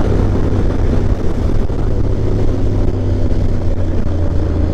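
Motorcycle engine droning steadily and loudly on a road in Thailand, heard close up with constant wind rush and no talking.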